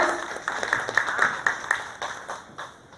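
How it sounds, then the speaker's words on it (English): Small audience at a county fair pet show clapping for a young rabbit owner, a short burst of scattered hand claps that tapers off over a few seconds. "So let's give Alicia a round of applause."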